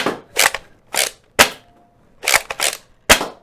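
Sharp snappy shots from an X-Shot Fury X toy blaster, about seven cracks in quick irregular succession, close and dry with faint handling between them and no talk.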